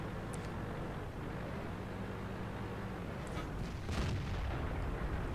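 A tank main gun booms in a World of Tanks match, a muffled blast near the end over a steady engine rumble and battle noise, no voices.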